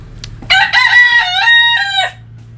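A rooster crows loudly and close by in a backyard chicken coop, one long drawn-out call over a low steady hum, with no other voices.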